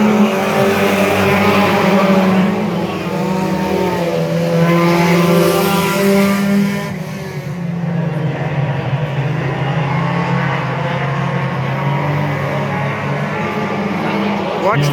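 Stock cars racing on a track at Victory in 2024, loud continuous engine roar with shifting pitch as cars pass, a race commentator talking over it throughout.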